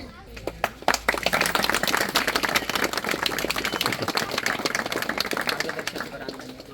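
Audience clapping at an environmental protection award ceremony, a dense, steady round of applause from many hands, loud and sustained, with a voice speaking over it.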